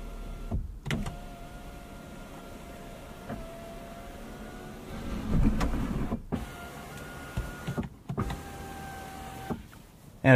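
Power moonroof on a 2025 Kia K4 whirs as its electric motor runs, a steady mechanical hum lasting several seconds inside the cabin, broken by a few soft clicks and thumps near the end.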